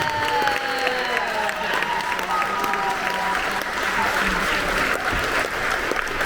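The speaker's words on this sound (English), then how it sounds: "Folks, please give it up one more time for Jeffrey Combs" A crowd at a Jeffrey Combs film retrospective applauds loudly and steadily with some cheering and voices mixed in.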